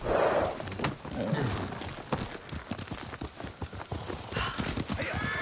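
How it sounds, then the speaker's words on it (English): A horse in the video game Ghost of Tsushima gallops with rapid, close clip-clopping hoofbeats, opening with a loud whinny and a snort, the hooves pounding steadily throughout. "Horse!"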